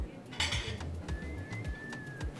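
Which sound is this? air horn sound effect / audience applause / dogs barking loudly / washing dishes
washing dishes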